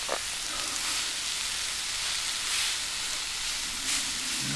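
Steak searing in a hot pan at a campsite, a steady loud sizzle and hiss throughout with no talking.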